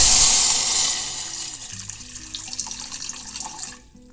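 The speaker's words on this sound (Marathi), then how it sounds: "सर्वप्रथम पातेल्यामध्ये दोन कप पाणी घ्यायचं" Two cups of water pour in a steady stream into a metal pot for tea, the splashing tone shifting as it fills, then stopping near the end.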